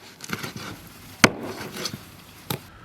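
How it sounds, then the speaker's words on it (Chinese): A cleaver chopping duck necks in half on a board, a few sharp, close thuds spread over a short span with one especially hard strike and quieter handling sounds between. "现在把鸭脖剁一下，鸭脖一剁两半"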